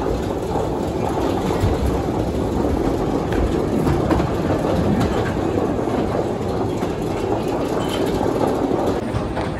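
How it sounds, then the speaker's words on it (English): The Leap the Dips wooden roller coaster at Lakemont Park, the oldest in the world, rattles loudly and steadily along its track, a continuous close rumbling clatter with no break throughout. "ride the oldest wooden roller coaster in the entire world."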